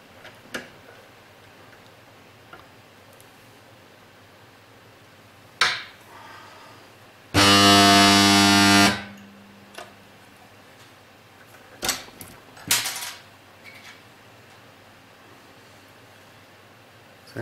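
A DIY spot welder fusing zinc plated washers about a millimeter thick gives one loud, dense buzzing burst lasting a second or so, with a few sharp clicks and taps before and after in a quiet room.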